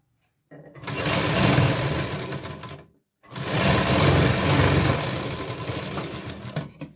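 A sewing machine stitches fabric for a katori blouse in two steady runs of a couple of seconds each, separated by a brief pause.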